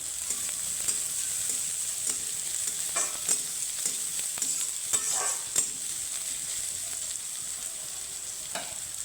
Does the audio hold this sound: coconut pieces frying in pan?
yes